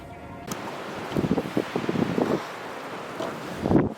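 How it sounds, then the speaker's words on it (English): Strong wind buffets a campsite on a cold night, rumbling steadily against the microphone with gusty bursts and crackles, and nobody talking. "it's windy as fuck."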